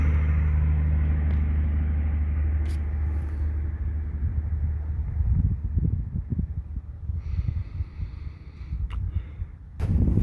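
A Cummins diesel engine in a Dodge truck, suspected of a stuck injector or a cracked cylinder head, idles with a steady low rumble as exhaust blows out. Wind buffets the microphone, and the engine roughens and pulses in the second half.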